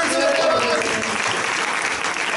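Steady, dense applause from an audience at an improv comedy show at Phoenix Comicon Fan Fest 2016 fills the whole stretch at an even, loud level, with a few crowd voices mixed in.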